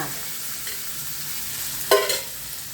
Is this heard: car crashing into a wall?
no